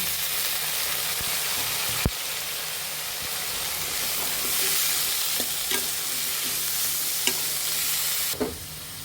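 Chopped potatoes fry and are stirred in a pan for a curry with country shrimp, giving a steady close sizzle broken by a few sharp clanks of the utensil against the pan.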